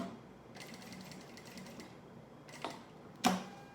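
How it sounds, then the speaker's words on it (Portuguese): A sewing machine stitches a label onto a thermal school lunch bag in slow, careful short bursts, a quiet close whirring with small clicks and a sharper knock near the end. "Aí eu tô aqui fazendo uma costura para fixar a etiqueta na peça."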